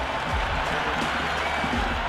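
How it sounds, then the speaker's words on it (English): Stadium crowd noise from the cricket video game Cricket 26 during a Punjab Kings versus Gujarat Titans match, a steady dense roar of cheering and applause filling the whole stretch with no pauses. "The crowd is electric right now."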